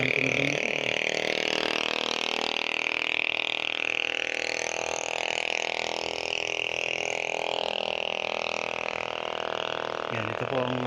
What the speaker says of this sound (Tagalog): So napakaingay ng tunog ng motor.